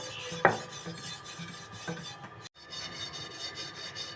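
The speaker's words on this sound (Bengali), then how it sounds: "স্টিলে জালে দিয়ে ঘষে ঘষে মেজে নিচ্ছি" An old dao or boti blade, cleaned with salt, is scoured with a steel-wool dish scrubber: steady rasping, rubbing strokes, close and fairly quiet, with one sharper scrape near the start and a brief pause partway through.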